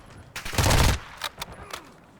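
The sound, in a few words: Lachmann Sub gunfire in video game Call of Duty DMZ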